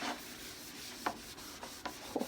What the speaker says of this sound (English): I'm going to take this paper towel here.